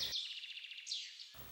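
Birds chirp in a nature area among old oak trees, a quick rhythmic run of thin, repeated high notes followed by a couple of sweeping calls, faint and slightly distant.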